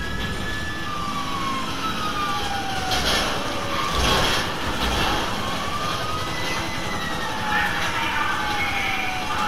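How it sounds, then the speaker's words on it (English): A police car siren in the video game Grand Theft Auto V, a rising and falling wail running continuously over steady engine and traffic rumble. "That's obviously my siren."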